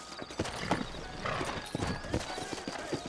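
Horse hooves clip-clop in the Western video game Red Dead Redemption, a quick, fairly quiet run of distinct hoof beats with a brief whinny-like sound mixed in.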